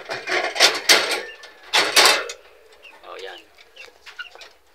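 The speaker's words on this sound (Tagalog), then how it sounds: "At yan naman yung ating dalawang maliit pa na sisiw pa." Two small young chicks peep with high, thin calls scattered through the clip, close by, after louder broadband bursts of movement or handling noise near the start.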